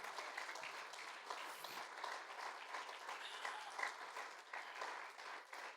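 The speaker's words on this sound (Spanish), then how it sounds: "denle un fuerte aplauso al Señor." A church congregation at a Spanish-language service applauds in a dense, sustained wash of many hands clapping that swells slightly near the end.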